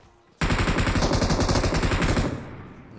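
Rapid automatic gunfire bursts out in a shooter video game, a loud, close rattling string of shots lasting about two seconds before fading into a faint echo.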